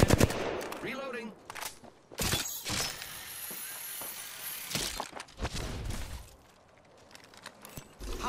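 Bursts of automatic gunfire in the Apex Legends shooter, sharp rapid cracks and shattering hits up close, with a voice speaking over the early part.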